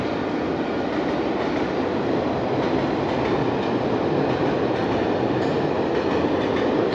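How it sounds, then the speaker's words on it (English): A freight train rolls past in Tampere, Finland, a steady loud rumble with rattling wagons and faint clickety-clack, continuous throughout with no speech. "It's a freight train."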